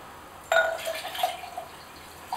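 Water splashes into a pot for groundnut porridge, starting abruptly and running as a steady close pour with small gurgles, fading slightly toward the end.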